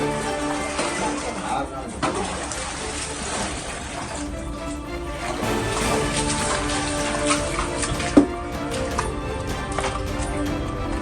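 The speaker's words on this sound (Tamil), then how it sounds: "மலையுச்சியிலிருந்து பல இடங்களில் மழைநீர் பேரிரைச்சலுடன் கொட்டிய காட்சி" Heavy monsoon rain pours down in a roaring torrent as sudden waterfalls spill off the summit of Yanaimalai hill at Othakadai near Madurai, a dense continuous wash of water noise with a faint news voice underneath.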